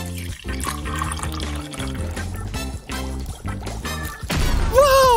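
Red and green liquids are poured together for a craft mix, with a splashing trickle that sits under loud backing music throughout.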